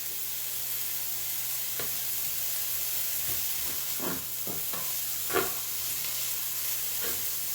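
Sausage gravy sizzles steadily in a pan with a constant bright hiss, broken by occasional soft scrapes and stirs, close and alone without talk.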